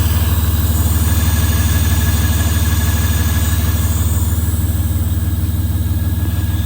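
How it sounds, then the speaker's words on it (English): An engine-swapped Aston Martin DB9 idles steadily with a faint hiss from a vacuum leak at the brake booster, a loud, even drone with no talk. "but I did notice this hissing noise."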